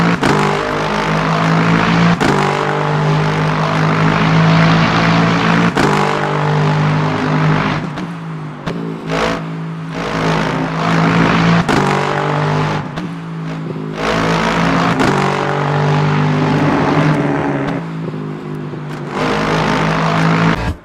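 A race car engine from the Le Mans Ultimate racing game, heard from inside the car, revs loud and close, climbing through gears with brief dips at shifts and repeated surges of acceleration, no voices.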